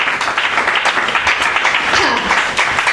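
A church congregation applauding loudly, a dense sustained wash of clapping from many hands across the whole stretch.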